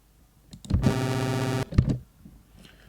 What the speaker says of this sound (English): which creates a more gritty sound. It switches through all the different duty cycles.